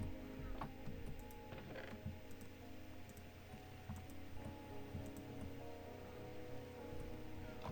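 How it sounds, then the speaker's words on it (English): Soft rainfall in the Minecraft video game, a faint steady patter with scattered light ticks of drops, quiet and continuous with no voice over it. "Oh, it's raining now."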